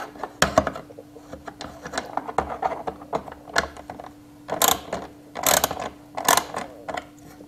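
An 8mm ratchet snugs down bolts on BMW i8 side skirts, giving close, repeated clicking strokes in short uneven bursts with no talking.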